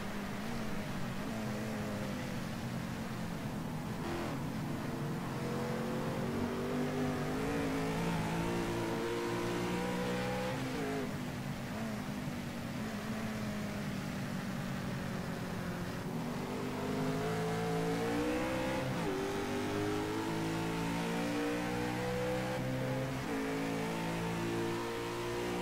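On-board nose-cam race car engine in a sim racing game at Road America: continuous loud engine drone with repeated rising revs through gear changes and dips under braking.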